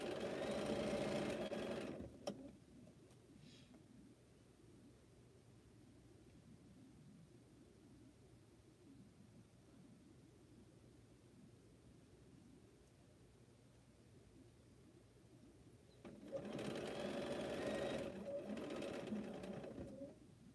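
A sewing machine stitches quilt seams in two short bursts of rapid, buzzing whirring at the start and end, with a long stretch of quiet low background hum between them.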